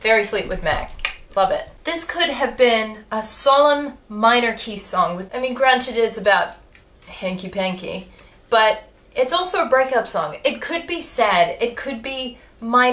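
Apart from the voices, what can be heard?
None of the usual background noises is heard.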